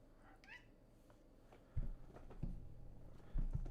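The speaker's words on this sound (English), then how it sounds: "There is a cat." A pet cat meows indoors, a brief faint cry near the start, while low thumps and handling noises follow in a quiet room.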